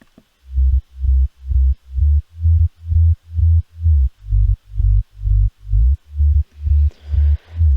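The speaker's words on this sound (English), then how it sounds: "Now we can move on to the sub bass" A synthesizer sub bass, two layered tones an octave apart, pulses in a steady, loud rhythm of about fourteen short throbbing notes, each swelling and cut off, alone with no talk.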